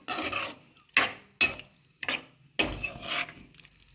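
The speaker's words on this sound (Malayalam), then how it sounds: "അരപ്പിടുന്നതിന് മുമ്പ് തന്നെ ഇങ്ങനെ ഒന്ന് ഉടച്ചു കൊടുക്കണം" Cooked jackfruit seeds are mashed in a curry pot with a spoon, giving a series of close, wet pressing and scraping thuds in uneven bursts with short pauses between them.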